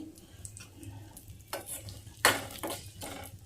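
Urad dal and mustard seeds frying in hot oil for a Telugu chutney tempering, a steady soft sizzle broken by a few sharp spoon-stirring scrapes against the pan, with no voices.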